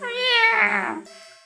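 A cat meows in an indie horror video game, one clear drawn-out mew, close and fairly loud, trailing off into a softer tonal tail.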